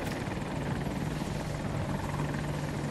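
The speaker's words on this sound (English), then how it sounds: "Behind is a chopper. Behind us is a helicopter." A helicopter flies in an AH-64 Apache combat video game, a steady whirring rotor drone with a low hum holding throughout, moderately loud and alone with no talk.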